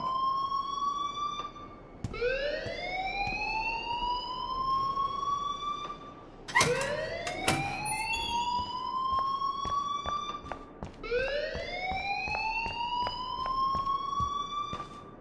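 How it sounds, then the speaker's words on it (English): Rising-and-falling electronic alarm siren in the Life is Strange video game, sounding as loud repeated upward sweeps roughly every four seconds with no voices over it. "please turn off that alarm since that's your job"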